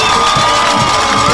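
Vandals fans cheer in a loud, continuous crowd roar at a high school football playoff game as their team runs onto the field.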